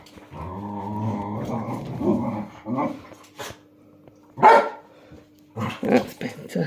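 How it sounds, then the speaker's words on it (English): Dogs bark and growl indoors in the background, short irregular bursts of fairly loud yapping and growls with gaps between, while a person talks nearby at times. "You hear the dogs in the background, they want to go out for their second walk."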